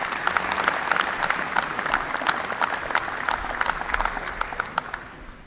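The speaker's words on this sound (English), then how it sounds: "Give him a usual round of applause." An audience at a St. George's University white coat ceremony applauds keynote speaker Dr. Robert Grant, a plastic surgeon. The clapping is loud and sustained, with sharp individual claps standing out from the dense crowd sound.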